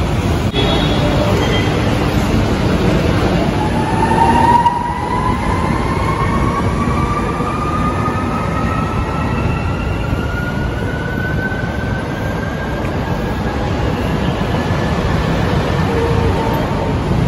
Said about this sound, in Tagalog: may paparating na train bound for Top Avenue in Pasay City